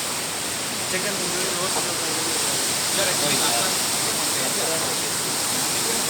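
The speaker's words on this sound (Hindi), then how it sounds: "मैं तो बस पानी की आवाज़ सुने जा रही थी" A strong, fast-flowing mountain river on the road to Naran in northern Pakistan rushes loudly and continuously, a broad roar filling the scene while people talk over it.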